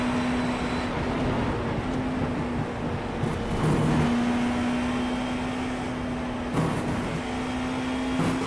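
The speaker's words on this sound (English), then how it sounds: "Massive speed in the Porsche curves, top of fifth gear." A race car's engine holds a steady high drone at speed through the Porsche curves at Le Mans in a racing video game, top of fifth gear, with brief bursts of other noise over a constant hum.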